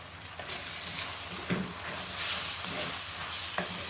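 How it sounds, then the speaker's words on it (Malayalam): Garam masala and black pepper powders fry in a pan with fish masala, a steady soft sizzle under repeated scraping stirs, fairly quiet and close with no talking. "ഇതെല്ലാം കൂടി നന്നായിട്ടൊന്ന് ഇളക്കി കൊടുക്കാം"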